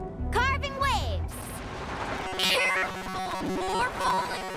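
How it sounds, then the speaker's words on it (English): Rocks falling and crashing in a collapsing cave in Genshin Impact, a jumble of loud rumbling impacts and debris clatter layered with game effects and music, and a character's voice comes in over it. "Careful! More falling rocks!"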